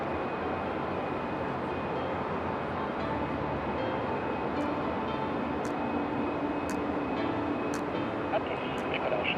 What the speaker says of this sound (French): Mesdames et messieurs, sur votre gauche, la patrouille de France au décollage.